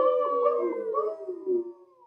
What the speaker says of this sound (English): Coyotes.